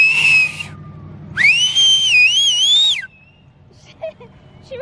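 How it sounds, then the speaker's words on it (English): Two loud whistled notes, a short steady one followed by a longer wavering, sliding one, then quiet with faint background noises. "I got to whistle again"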